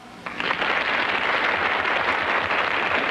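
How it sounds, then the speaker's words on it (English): An audience at a 1984 game show breaks into steady applause that swells quickly and holds at an even, full level for about three seconds. "Your applause for number 1."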